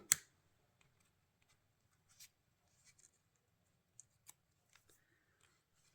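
Scissors cut paper egg shapes in a quiet room, giving a few faint, scattered snips and paper rustles with long silent gaps between them.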